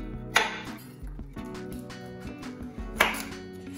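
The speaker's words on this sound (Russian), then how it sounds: "Кабачки тоже нарезаю кубиками." A knife chops zucchini into cubes on a cutting board, with two sharp louder strikes and softer taps between, close and clear without speech.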